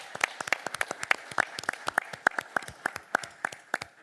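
Sharp, evenly spaced claps ring out in a city commission meeting chamber as applause for police officers and fire department staff, a few close hands beating out a quick steady rhythm for four seconds.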